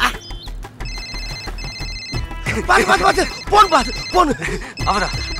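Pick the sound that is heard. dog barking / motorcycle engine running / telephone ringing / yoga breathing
telephone ringing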